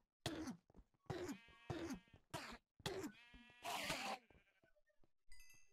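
Minecraft sheep bleating in a quick series of five or six loud, wavering calls, followed by a brief high digital chime, with no talking.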